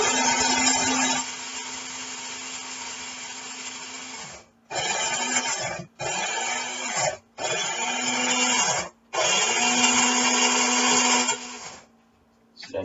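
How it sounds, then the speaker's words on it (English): An electric coffee grinder loudly grinds Indonesian coffee beans in several long pulses, separated by short silent breaks, with a steady motor whine under the harsh crunching roar. "Put it in our grinder."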